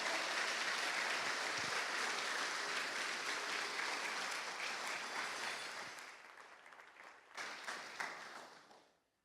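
A church congregation gives a long, loud round of applause for the Lord, thick steady clapping that gradually thins, stops briefly, then flares again before fading out.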